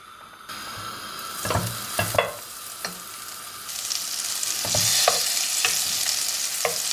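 A tablespoon of butter sizzles in a pot on the stove for a Turkish yüksük soup, with steady frying hiss and several sharp scraping stirs of a spoon, close and fairly loud, with no talking.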